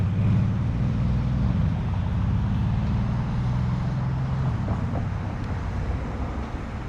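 A loud car in Chislehurst, London rumbles steadily past close by, its engine drone filling the whole stretch before easing slightly as it moves off.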